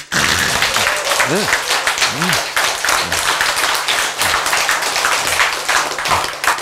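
Applause from a church congregation at a sermon breaks out in several loud bursts of clapping, with a voice speaking over and between the claps.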